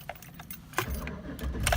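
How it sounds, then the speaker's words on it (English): Truck keys jangle as they are put into the ignition, a close metallic rattle with a few sharp clinks over a low background rumble. "Put the keys in the ignition."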